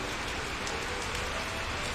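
Steady rain pours down, a dense even hiss of drops hitting a surface, constant and fairly loud throughout with no voices.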